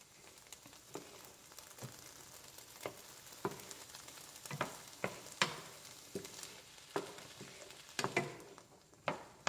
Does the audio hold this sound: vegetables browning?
yes